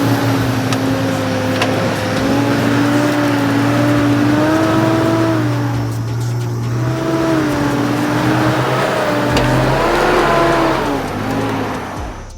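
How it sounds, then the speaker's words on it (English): A 4WD with both lockers engaged climbs a steep track in first gear low, its engine droning loud and steady with rising and falling revs, briefly straining harder near the end. "Here we go on the track, both lockers in, first gear low, and see if it'll cruise on up it."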